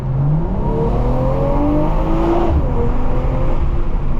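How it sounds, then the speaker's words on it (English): A 2023 BMW M340i accelerates at full throttle on summer performance tires. The engine note is loud and continuous, rising through the gears with a brief shift dip, heard from inside the car with no talking. "All right, we're gonna do a full acceleration here."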